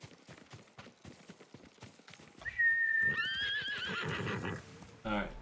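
A horse whinnies loudly in the Ghost of Tsushima video game, its neigh rising over nearby hoofbeats and game sounds, with a person talking in the first half.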